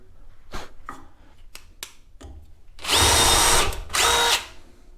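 An impact driver converted to work as a drill runs at speed setting 3. A few light taps come first, then two loud, sustained whirring bursts of drilling close by, with no speech.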